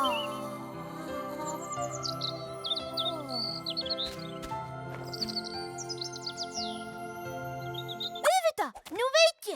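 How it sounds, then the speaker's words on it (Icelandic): A small bird chirps in a Smurfs cartoon, with bright scattered tweets over music and a character's voice. Louder, close chirps rise at the end. "Halló, litli fugl. Mikið ertu fallegur."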